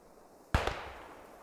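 A single loud gunshot cracks out in a video-game firefight, followed by a quick second report and a short echoing decay against quiet background.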